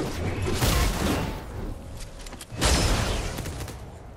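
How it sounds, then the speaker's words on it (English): Video game gunfire comes at the player in rapid bursts, with dense crackling volleys and booming impacts. Two loud clusters are separated by a brief lull, and there is no talk. "Someone's shooting at me."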